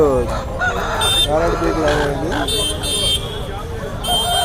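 Native country chickens at a village poultry market in Nallapadu crow and cluck through busy crowd chatter and bargaining voices, with a steady din of talk throughout.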